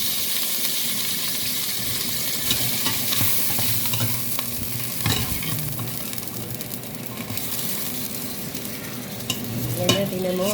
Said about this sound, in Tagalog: Piprito muna